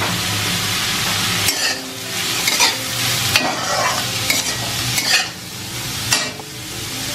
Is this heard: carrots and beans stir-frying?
yes